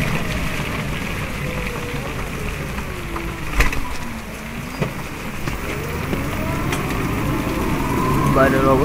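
Heavy rain falls outside in a hilly area as a steady broad wash with an engine-like drone underneath and occasional louder knocks, continuous and fairly loud.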